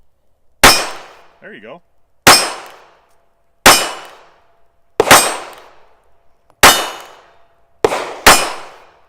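An old .32 pocket pistol fires six sharp shots, each one a close crack followed by a ringing metallic clang from the target, evenly spaced with short quiet gaps, and a brief voice in between.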